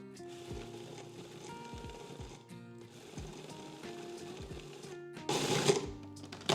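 A food processor pulses beets and vanilla with a humming motor whir that rises and falls in short bursts, ending in a louder grinding rush.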